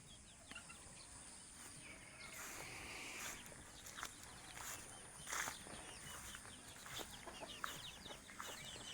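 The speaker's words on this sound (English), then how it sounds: "Yeah, tons of chickens." Chickens clucking and squawking intermittently at a distance, with scattered rustling and footsteps in a quiet outdoor setting.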